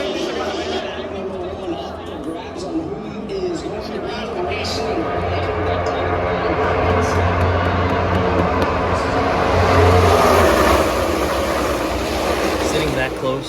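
NASCAR V8 race cars of about 700 horsepower, revving to 9,500 RPM, roar past at Daytona during the 2024 Coke Zero Sugar 400, making a loud, continuous engine wash that builds to a peak and then eases slightly.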